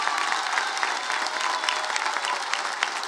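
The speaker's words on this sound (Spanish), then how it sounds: "quiero que le demos por favor un fuerte aplauso" An audience at a pre-candidate registration event in Chihuahua gives steady, sustained applause, dense and even throughout, heard from a moderate distance with no clear voices.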